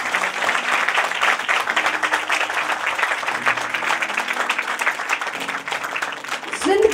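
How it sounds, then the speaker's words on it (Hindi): A church congregation in Rawalpindi claps loudly and continuously, a dense sustained wave of applause with faint voices and cheering mixed in. "जोरदार ताली बजाएंगे।"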